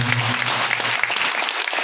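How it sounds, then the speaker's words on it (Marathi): A live audience at a Marathi devotional music program in Chikhli applauds for a singer and his troupe, a dense steady burst of clapping that fills the short moment, with a low musical hum fading underneath. "त्यांच्यासाठी चिखलीकरांच्या जोरदार टाळ्या व्हाव्यात या ठिकाणी"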